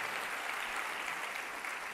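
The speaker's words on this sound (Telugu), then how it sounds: "గట్టిగా చప్పట్లు కొట్టి దేవుని అనుమయపరచు" A church congregation claps together in worship, a fairly quiet, dense wash of applause that holds steady without a break.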